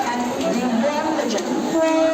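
A Mumbai local train rumbles through a busy station, its steady rail noise joined by tonal horn or whistle notes, with a talking voice over it.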